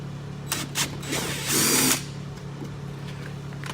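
A power drill whirs in short bursts, then runs one sustained high-pitched spin into material on a Dodge Challenger before stopping, close by over a quiet hum.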